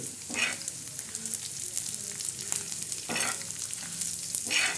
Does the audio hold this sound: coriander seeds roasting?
yes